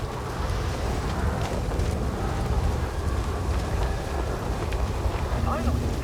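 A storm roars in the video game Star Wars Jedi Survivor, a steady wash of wind and rain with low rumbling beneath, continuous throughout, while voices talk over it.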